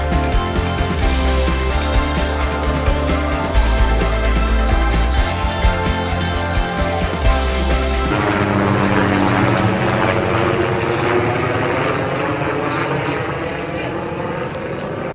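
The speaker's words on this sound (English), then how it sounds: "Some Big Island residents are fed up with the noise from the dozens of helicopter flyovers every day." A tour helicopter flies low and loud over a residential part of Hilo on Hawaii's Big Island, its rotor and engine roar filling the air steadily, shifting as it passes and slowly fading.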